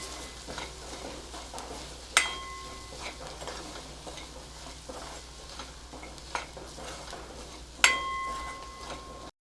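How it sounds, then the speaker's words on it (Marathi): Onion and coconut roast in a pan while a spoon stirs them, giving a low steady sizzle with a few sharp clinks of utensil against metal, faint and close with no talk. "कांदा आणि नारळ छान भाजून घ्यायचे"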